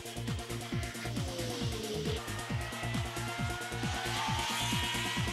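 Porsche Championship race cars lapping Rockingham circuit, a continuous loud engine drone with rapidly sweeping pitch as cars pass and rev through gears, several cars close together with no gaps.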